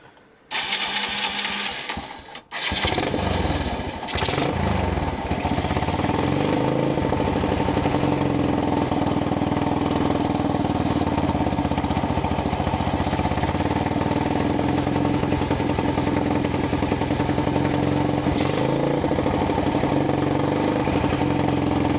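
A 30-year-old motorcycle, revived after being abandoned, sputters briefly and then settles into a loud, steady, close-up running rhythm that continues without a break.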